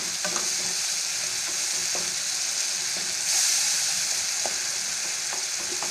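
Tomatoes fry in oil in a pan for Andhra-style tomato pappu, a constant dense sizzle close by with faint scattered clicks from stirring.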